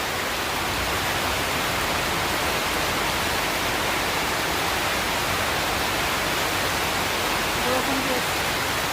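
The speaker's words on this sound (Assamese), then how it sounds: "বৰষুণ দি আছে" Heavy rain pours down at a machinery workshop as a dense, unbroken hiss that stays loud and even throughout, with no distinct voices above it.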